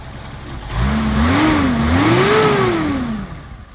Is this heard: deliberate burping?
no